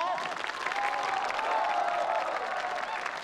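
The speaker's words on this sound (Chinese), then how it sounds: "掌声不够响" Applause from the guests at a wedding ceremony, dense sustained clapping from a sizeable crowd that holds steady throughout, with a voice faintly audible through it.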